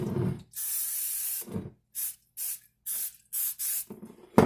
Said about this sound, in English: I am going to just spray it down a little bit with some olive oil.